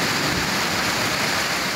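Heavy rain pouring down, a dense continuous hiss of falling water that stays loud and even throughout.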